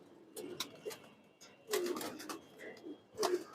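Silver and khaki pigeons coo softly in a seller's loft, a few low, rounded calls rising out of faint background rustle at a fair distance.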